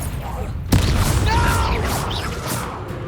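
A Confringo fire-blast spell in the game Hogwarts Legacy lands with a sharp boom and crackling burst, followed by swirling magical whooshes, loud and close over spoken game dialogue.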